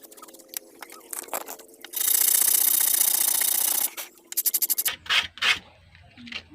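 Metal file scraping rust off a corroded fish shocker's metal part: a long steady rasp of about two seconds, then a quick run of short strokes and a few scrapes, loud and close.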